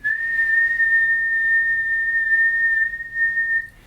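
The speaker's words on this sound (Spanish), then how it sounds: "Si yo hago un silbido constante y no lo modifico en su altura" A person whistles a single steady high note that holds its pitch for a few seconds before fading out.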